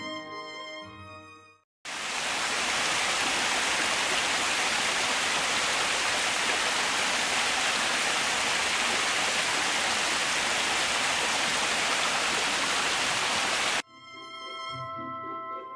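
Romon Falls, near old stone walls, roars loud and close in a dense, steady rush of falling water that cuts in abruptly and holds for about twelve seconds before stopping just as suddenly.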